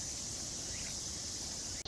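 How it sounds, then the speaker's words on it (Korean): A steady, high-pitched drone of summer cicadas hums throughout from trees at a hilltop pavilion in Kenroku-en garden, Kanazawa, Japan, constant and fairly distant, with no voices. "정상의 정자에는 여름 매미 소리가 가득합니다."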